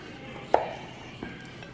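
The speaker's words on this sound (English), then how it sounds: "you're going to cut the steak in thin slices" A knife slices a steak into thin slices on a board, giving one sharp cut near the middle and a softer second cut shortly after, both fairly quiet against the room.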